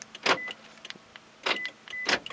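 Car door locks actuating in response to a remote key fob newly programmed with an Xtool D8 scan tool, three short mechanical clunks spaced about a second apart, close by with no talk.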